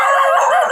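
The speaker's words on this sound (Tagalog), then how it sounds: "Ay, daming aso." Several dogs howl together in a wavering, high chorus, steady for the whole moment with no talking.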